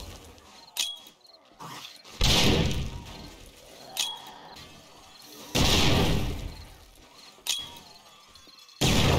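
Grenade blasts in the zombie survival game 7 Days to Die, several loud booming explosions spaced a few seconds apart, with sharp cracks between them over game noise.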